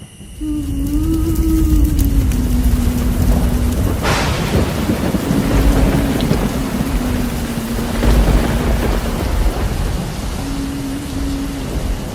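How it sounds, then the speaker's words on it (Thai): Heavy rain pours steadily and loudly throughout, with deep rolling thunder swelling underneath, during a storm at a cremation in a forest cemetery. A drawn-out low tone sounds on and off over the downpour. "เร็วพ่อฝนตกแล้ว"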